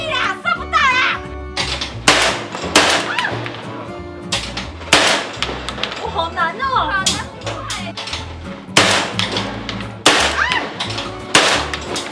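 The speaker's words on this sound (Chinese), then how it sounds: "准心只要有对到它，就开枪" Shotgun blasts at a clay pigeon shooting range in Linkou, Taiwan: several sharp, loud reports at irregular intervals, with people talking and calling out between the shots.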